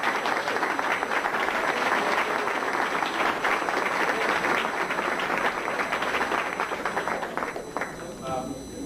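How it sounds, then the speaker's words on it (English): Sustained applause from a crowd at a Hall of Fame induction, loud continuous clapping that holds steady for several seconds before thinning and fading near the end, with a voice emerging as it dies down. "I ask everyone for a round of applause."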